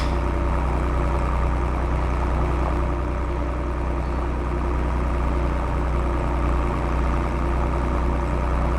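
A tractor engine drones continuously in a farming restoration game, a loud, steady low rumble at constant throttle with no speech over it.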